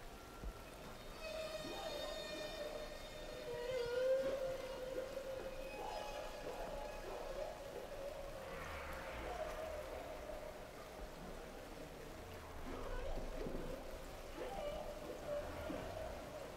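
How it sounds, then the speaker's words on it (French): Humpback whale song recorded underwater, with drawn-out moaning calls and rising and falling tonal sweeps over steady ocean hiss and crackle, faint and distant. "une langue non humaine qui est justement le langage des baleines à bosse"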